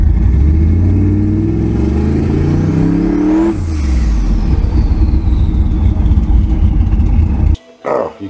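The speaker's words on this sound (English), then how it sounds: "you can hear that gurgle" Engine with a blow-through carburetor running at 3100 to 4000 rpm, a loud continuous revving drone with a rough gurgle that rises and falls in pitch before cutting off abruptly near the end.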